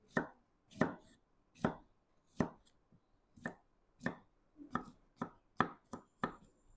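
A knife slices ingredients for a fish curry on a chopping board, about a dozen crisp, evenly spaced cuts in a steady rhythm, quiet and close with nothing else heard.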